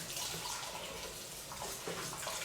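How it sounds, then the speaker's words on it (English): Running water rinsing out a cooking pot in a kitchen, a steady faucet splash and gurgle that is constant and fairly loud, with no talking. "I'm just washing out this pot because I don't want anything that should not be in there"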